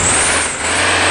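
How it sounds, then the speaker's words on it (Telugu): A Volvo B9R bus in Bus Simulator, its engine droning loud and steady with a sharp high hiss of air brakes running across the whole short stretch, no talk. "అది బస్సుకి క్రియేట్ చేసిన సౌండ్"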